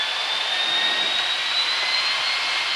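L-39 jet trainer taxiing with light throttle, a steady loud turbine roar with a thin high whine running through it.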